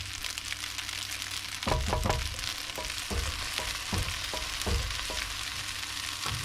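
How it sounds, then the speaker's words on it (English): Light spaghetti sauce being stirred in a pot, giving a steady low simmer with several soft spoon scrapes and knocks spaced through the stretch, no talking. "So I stir it up a little bit."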